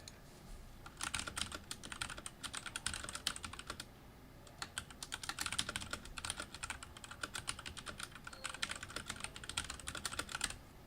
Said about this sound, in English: I kind of assumed that keyboard noise was annoying